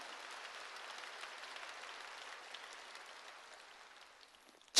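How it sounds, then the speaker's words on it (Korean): A church congregation claps softly in a sparse, distant patter that thins out over several seconds before a sharp loud thump at the very end. "박수를 치려면 치고 말려면 말"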